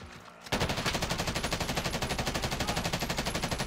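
Rapid automatic gunfire in Call of Duty Warzone: a loud, close burst of evenly spaced shots that starts abruptly and hammers on without pause.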